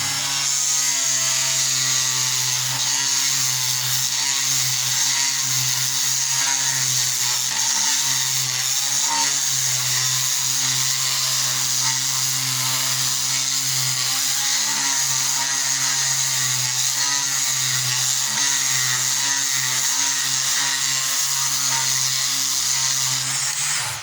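An electric sander removing paint whines continuously at a steady high pitch, loud and close, with a low droning hum underneath and no pauses.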